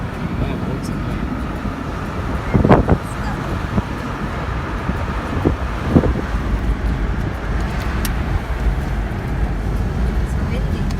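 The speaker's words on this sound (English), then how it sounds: "It's windy." Wind blows outdoors past new buildings in a subdivision, a steady rumbling roar buffeting the microphone, with occasional gusts and distant traffic underneath.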